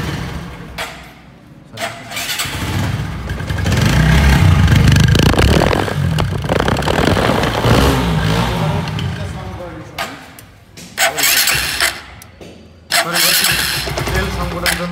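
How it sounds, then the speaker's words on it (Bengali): A used motorcycle with about 9,511 km on it starts and runs outdoors, a loud steady engine rumble broken by short revving bursts near the end, with someone talking over it. "ইঞ্জিনের সাউন্ডও কিন্তু খুব স্মুথ আছে।"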